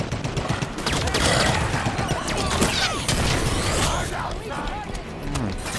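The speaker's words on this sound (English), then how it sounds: "Fire from that turret." Turret gunfire in a Halo 5: Guardians battle, a dense, continuous barrage of rapid shots and crashing impacts, loud and steady throughout, with voices talking over the fire.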